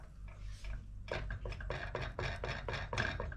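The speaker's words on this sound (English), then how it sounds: "give that a good stir in." Spoon stirring 400 millilitres of custard into a blended gooseberry mixture for a fool, giving a steady series of close, regular scraping knocks against the bowl, about twice per second.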